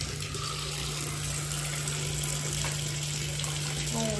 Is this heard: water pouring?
yes